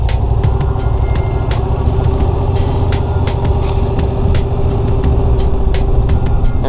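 A motorcycle engine pulling away in first gear with a touch of throttle runs loud and close, a steady throbbing note with a faint regular ticking over it.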